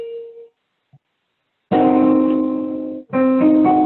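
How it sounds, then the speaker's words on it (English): A half diminished seventh chord played as a sustained tonal chord, struck, briefly cut off and struck again, clear and close, preceded by a short low tone and near silence. "So that's the sound of the half diminished seventh chord."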